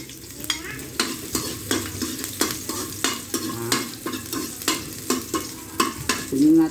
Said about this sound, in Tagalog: Gisa natin yung luya.